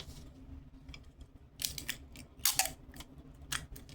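Tape pulled and pressed onto a paper dragon model, giving several sharp crackling rips and taps in irregular bursts, close up and with no talking.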